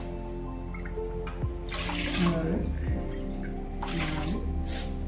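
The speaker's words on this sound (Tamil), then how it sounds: "இப்போ ஒரு 5 டம்ளர் நம்ம ஊற்றிக்கலாம்." Water splashes and pours in short bursts into a cooking pot while a person counts out five tumblers in Tamil over it.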